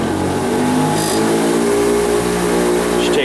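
A heavy-wheeled grinder spins up to speed from a low idle of about 2,000 RPM. Its motor gives a loud, steady whine that climbs in pitch over a few seconds, sounding close and continuous.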